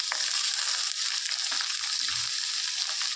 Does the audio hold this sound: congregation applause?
no